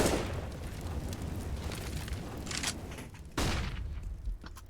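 A Molotov fire grenade lands in a Counter-Strike match and bursts into a roaring whoosh of flames, then settles into a crackling rush. A second sharp burst comes near the end.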